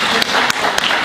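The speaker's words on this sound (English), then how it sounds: "Please welcome him with a big round of applause." Audience applause welcoming a speaker at a Nepali women's global networks conference in Boston, a dense continuous patter of clapping with a few sharper claps standing out.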